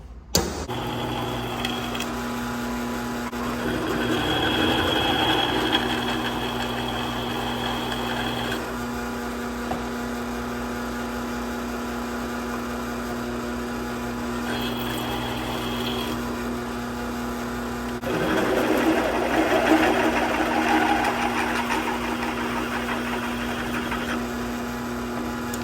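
A drill press hums steadily while a bit cuts into a metal chopper part clamped in a vise, with several bursts of harsher grinding and whining as the bit bites, then eases off.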